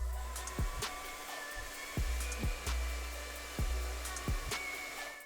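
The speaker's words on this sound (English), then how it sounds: "Using a little bit of heat on these stickers helps me to remove them and reuse them" A heat gun blows a quiet, steady stream of hot air onto the stickers of a PS4 Pro, a soft continuous hiss broken by several low thumps and knocks.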